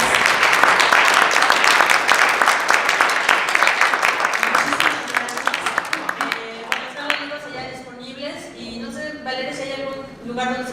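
Audience applause for the speakers at the close of a presentation in Spain, a loud dense burst of clapping that thins out and fades as a voice starts talking over the last scattered claps.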